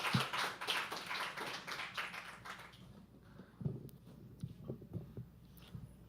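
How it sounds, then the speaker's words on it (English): An audience at a live poetry open mic at The Habitat claps in a dense burst for about three seconds, then it thins to a few scattered, fainter claps and taps. "Let's start clapping."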